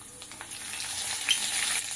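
Cumin seeds and green chillies sizzle steadily in hot oil in a home kitchen, a continuous close crackle and hiss with small pops, heard alone without any voices.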